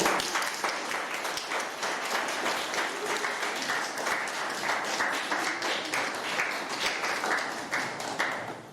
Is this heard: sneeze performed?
no